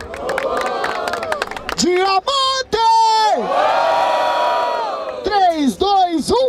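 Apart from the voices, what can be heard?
crowd cheering at a rap battle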